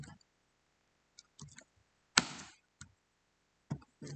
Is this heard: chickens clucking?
no